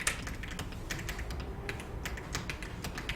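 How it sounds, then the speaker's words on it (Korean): Keys pressed on a computer keyboard, a run of light, crisp clicks at an uneven pace, close, against a soft background hum, with no voices. "문서의 전체 블럭 잡을 때는 키보드에서 컨트롤 A 눌러주시면 돼요"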